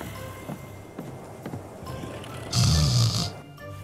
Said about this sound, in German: Hört ihr das? Der ist am Schnarchen.